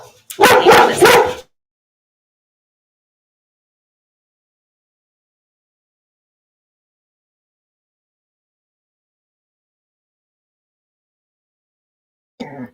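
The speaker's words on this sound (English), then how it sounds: "we had a bit of barking" A short burst of dog barking, loud and close, followed by a long stretch of silence.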